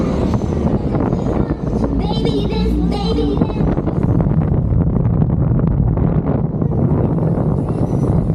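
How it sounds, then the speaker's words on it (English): Wind buffets the microphone in loud, constant low-frequency rumble at the Knutsford Mayday Fair, with a few brief voices mixed in early on. "it's a bit windy, isn't it?"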